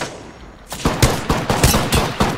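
Rapid bursts of gunfire from an Apex Legends match, a series of close, punchy shots in an uneven rhythm after a brief quiet start.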